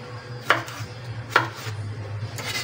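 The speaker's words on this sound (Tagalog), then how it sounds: "Malaki po ang gayat ng ating kamatis" Tomatoes being chopped into large pieces on a cutting board while cooking: two sharp, distinct knife strikes about a second apart, then a third softer one, close and clear with a low background hum.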